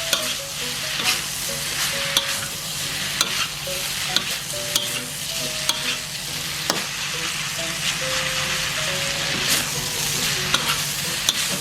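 Mama instant noodles being stir-fried with chili paste in a hot pan, a steady loud sizzle with repeated scraping strokes of the spatula and occasional sharp knocks, with no talking.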